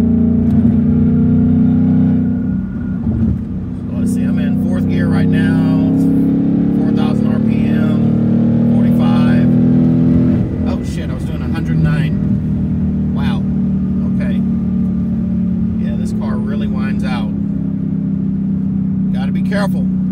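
A Ford Mustang Bullitt accelerates after its break-in period, its engine giving a loud, sustained drone that rises and falls. Speech is heard throughout over the engine noise.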